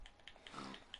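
A Minecraft pig oinks in a few short, soft snorts spread across a brief moment, faint and alone with no talk over it.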